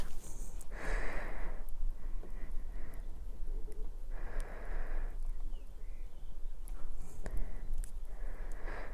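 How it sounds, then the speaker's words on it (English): Heavy breathing, close and loud, in slow repeated breaths with pauses between them. "You can probably hear my heavy breathing."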